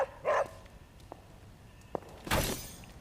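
A dog in Marvel's Midnight Suns video game barks twice, short loud yaps with a brief pause between, plus faint ticks in between.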